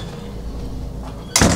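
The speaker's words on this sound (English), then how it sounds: "And close the door." A door shuts with one loud, close, sharp thud-and-rattle near the end, after a stretch of low room hum.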